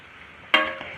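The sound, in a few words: fresh turmeric frying in ghee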